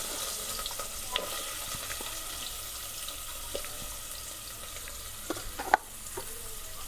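Chopped onions frying in hot oil with cloves, cardamom and star anise, a soft steady sizzle with occasional clinks and stirring scrapes from the pan.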